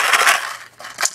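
A homemade yogurt-cup shaker filled with lentils is shaken in two quick bursts of bright rattling, close and alone with no talk.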